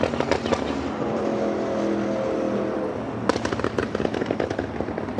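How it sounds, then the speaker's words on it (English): Motorcycle passing near Los Angeles International Airport, a loud roaring engine rising and fading across several seconds, with sharp crackling pops toward the end over steady outdoor background noise. "That's a motorcycle, just so everyone knows."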